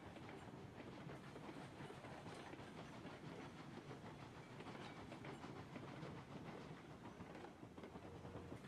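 A steam locomotive running in the train game Railroads Online, a steady hissing rumble with a faint rhythmic clatter of wheels, continuous and even throughout with no voices.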